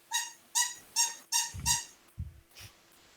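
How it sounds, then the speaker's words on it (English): A squeaky toy hammer gives a run of bright squeaks, about five evenly spaced hits followed by a few softer ones, close and clear with no talking. "No, that's the sound of the hammer just boink,"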